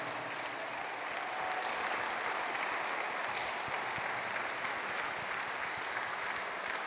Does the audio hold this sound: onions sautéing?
no